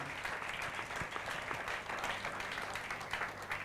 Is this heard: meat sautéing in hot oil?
no